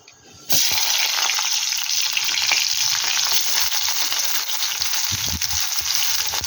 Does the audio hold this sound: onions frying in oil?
yes